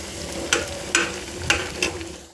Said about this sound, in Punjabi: ਇਹਨੂੰ ਆਪਾਂ ਜਿਹੜਾ ਕੀ ਆ ਚੰਗੀ ਤਰ੍ਹਾਂ ਮਿਕਸ ਕਰਾਂਗੇ